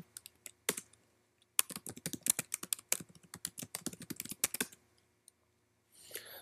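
A router address is typed on a computer keyboard, with quick runs of close, crisp key clicks between brief pauses, followed by a faint rustle at the end.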